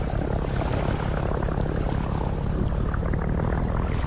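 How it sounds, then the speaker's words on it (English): An airplane flies past in The Brew Barons video game, a steady propeller-engine drone that holds loud and continuous throughout with no talk over it. "Whoa! Check out that plane."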